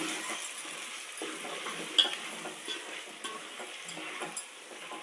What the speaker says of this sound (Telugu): మసాలా వేసి ఒకసారి బాగా కలుపుకొని